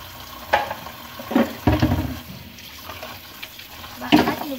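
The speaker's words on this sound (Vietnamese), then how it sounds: "Bây giờ để dễ lấy hơn thì các bạn xả nước cho mình thì cho nó nguội." Tap water running over blanched water spinach in a kitchen to cool it, heard as fairly close splashing and gurgling that comes in irregular bursts with quieter gaps.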